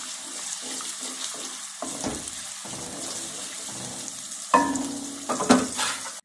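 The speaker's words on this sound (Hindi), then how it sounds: "अब मैं प्याज डालने लगी हूँ, जो एक मैंने बारीक कटिंग किया है।" Finely chopped onions fry in hot ghee, a soft, continuous sizzle with stirring clinks and scrapes of a spoon in the pan, growing a bit louder near the end.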